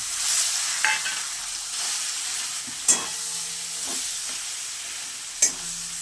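Ripe pointed gourd pulp fries in hot oil with a bright, steady sizzle and hiss, broken by a few sharp clinks and scrapes of a utensil against the pan, heard up close with no voices.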